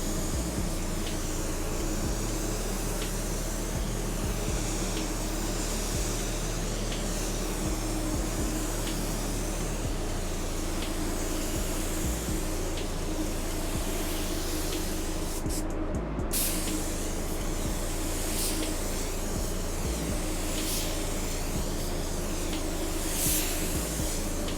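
A spray can or spray gun lays down a light cross coat of paint as a steady, loud, continuous hiss with slight pulsing, alone and without talk.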